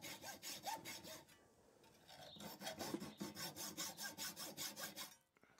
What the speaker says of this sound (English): Now we can saw out the chunks from the bottom of the wing nut.